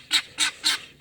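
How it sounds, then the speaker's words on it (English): Guinea fowl calling near a winter chicken coop, giving four harsh, evenly spaced shrill cries in a steady rhythm, clear and fairly close with quiet gaps between calls. "You can hear the guineas."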